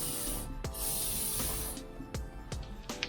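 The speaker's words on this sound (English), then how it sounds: "rust removing oil from Bildilla" Bildilla rust-removing oil is sprayed from an aerosol can in a long close hiss, followed by several shorter bursts, with faint rubbing between them.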